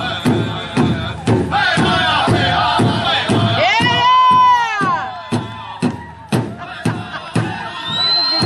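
Crowd at an outdoor Munsee-Delaware pow wow cheering and whooping for contest dancers, loud shouts and high calls over steady rhythmic drum beats.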